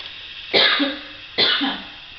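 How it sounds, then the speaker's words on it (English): Two distinct coughs, close and clear, about a second apart, with a quiet background between them. "Sorry, I had to cough."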